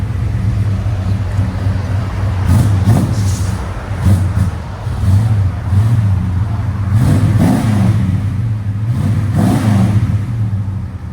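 A 1989 Dodge Ramcharger with a 5.9L V8 and Dynomax super turbo mufflers idles with a loud, deep rumble and blips its throttle in repeated short revs, with no talk.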